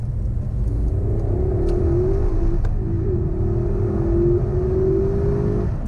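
A 2015 Porsche Panamera Turbo S with a PDK gearbox pulls hard from 30 to 70, its engine a loud, continuous drone with a slowly rising tone, close and unbroken for the whole stretch.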